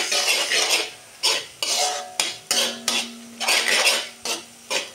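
A metal utensil scrapes and clanks against a pan while stirring egg fried rice, in quick repeated strokes with a soft sizzle underneath.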